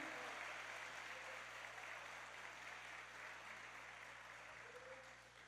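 A church congregation at a morning service applauding together, a dense continuous wash of clapping that sounds somewhat distant and fades slightly toward the end.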